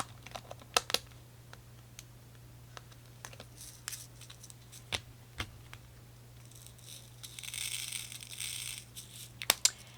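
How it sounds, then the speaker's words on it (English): Diamond dotting on craft cards: small sharp taps and clicks arrive sporadically and close by, with a soft rustling stretch near the end, all quiet over a faint steady hum and with no one speaking. "I'm going to let you guys watch me diamond dot these"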